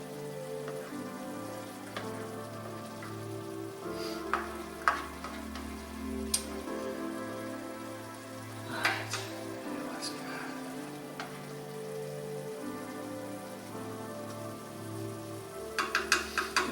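Meatballs in sauce heat in a pan, a steady gentle sizzle and bubbling with occasional sharp pops and utensil clicks, close and continuous throughout.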